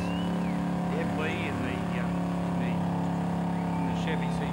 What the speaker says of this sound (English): That is a naturally aspirated engine.